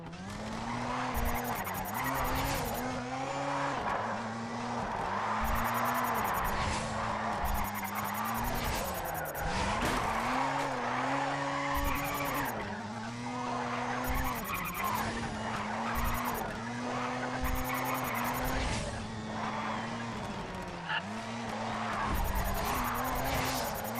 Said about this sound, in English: Pretty hard to keep the drift going there.